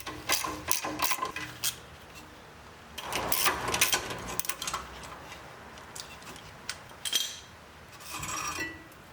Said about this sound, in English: use a 17 mil socket on a breaker bar and really pry at these two